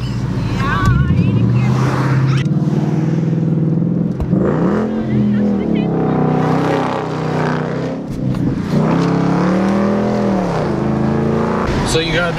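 A loud car engine with a newly fitted supercharger revs up and down repeatedly, its pitch climbing and dropping in surges, close by and dominating a street racing scene.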